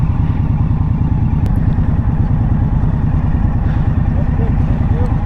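Indian Scout Bobber motorcycle from the 2022 lineup, idling after pulling over: a steady, close, low-pitched engine rumble with even rapid pulsing, holding constant throughout with faint wind and road ambience.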